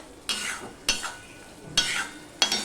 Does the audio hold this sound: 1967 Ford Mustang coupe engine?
no